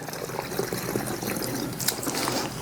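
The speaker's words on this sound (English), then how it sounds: "Then I'm going to put some more water in it," Water poured into a garden sprayer tank used for mosquito spraying, a continuous close splashing and gurgling fill that holds steady throughout with no talking.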